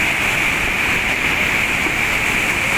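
A fast, swollen river coming down from Kedarnath rushes below a swaying footbridge, a loud, constant roar of water close by with no pauses and no voices.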